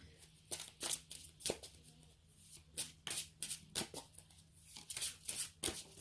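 Tarot cards being shuffled and drawn for an Aquarius reading: a run of crisp, close papery riffles and flicks in quick bursts, with short gaps between, heard alone without talk.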